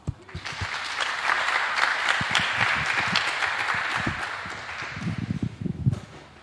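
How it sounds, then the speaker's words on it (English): Audience applause after a lightning talk at a conference, with crowd clapping swelling quickly and holding steady, then thinning into scattered individual claps and shuffling near the end. "a big applause"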